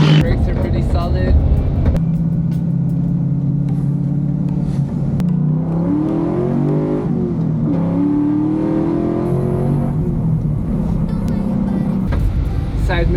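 A classic car cruises on a test drive, its engine droning steadily and swelling as it accelerates through the middle stretch, loud and close throughout with a brief shift near the end.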